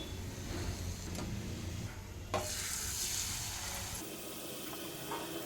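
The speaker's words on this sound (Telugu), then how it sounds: "ఇలాగే మిగిలినవన్నీ వేయించుకోవాలి ఆయిల్లో" Rice flour chekkalu snacks frying in hot oil, a steady close sizzle and bubbling with occasional stirring scrapes and clinks, no talking.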